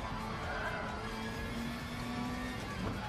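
A race car accelerates in the Gran Turismo racing game, its engine droning as a steady, dense roar with a faint rising whine, continuous throughout.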